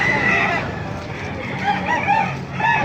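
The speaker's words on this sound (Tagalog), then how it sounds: "Ganda ng mga manok dito." Roosters at a bustling tyangge market in Baliuag, Bulacan, crow repeatedly, with several overlapping calls near and farther off amid loud crowd chatter and general market din.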